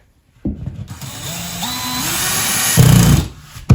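A power drill drives screws into drywall on a mobile home wall, a loud whirring motor that rises in pitch as it spins up, then strains and grinds as the screw bites, ending with a sharp stop.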